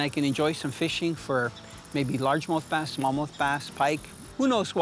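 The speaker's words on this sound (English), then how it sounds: "Can you hear the crickets and grasshoppers?" A faint, high, steady chirping of crickets and grasshoppers runs in the background at a quiet small lake while someone talks clearly over it.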